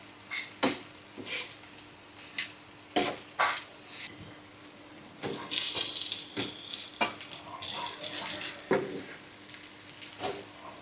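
Fish pieces fry with chili powder in a pan for a goddukaram fish fry, a steady sizzle under repeated sharp scrapes and clinks of a spatula stirring against the metal, close and moderately loud with no talk.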